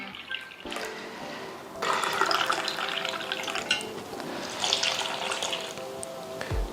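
Water pours into a glass of sunflower protein in a steady, splashing stream that swells and fades in a couple of surges, close and moderately loud, with no voices.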